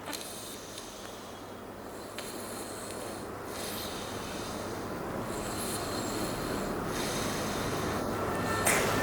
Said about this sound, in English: keep your lips sealed and then try to breathe in, breathe out